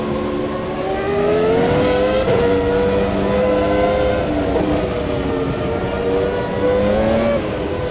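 Formula One cars at the 2002 US Grand Prix, including a Honda-powered car, screaming past in a loud, continuous high-revving engine wail with rising and falling pitch as they race close by.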